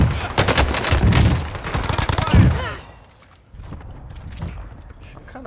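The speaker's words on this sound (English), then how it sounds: "I'm under fire" Dense bursts of close automatic gunfire in the battle royale game Warzone fill the first half, rapid loud shots overlapping with someone talking, then fading to quieter distant pops and movement.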